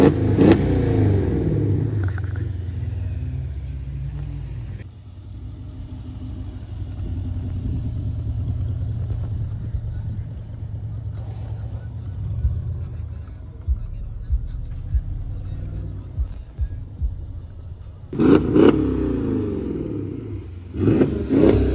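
A car doing donuts outside gives off a low engine rumble with rising revs, some way off. A person talks over it, and louder rev surges come near the end.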